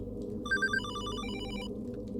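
A telephone bell rings in the Hollowbody video game, one ringing burst of rapid repeated tones over a steady low ambient hum, fairly faint and with no voices.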